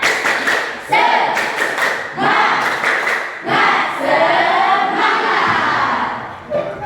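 Standing classroom of students at an Islamic university teacher-training session doing a rhythmic spirit-clap chant, bursts of group clapping and thumps in patterned beats, fairly loud and close, with shouted voices mixed in.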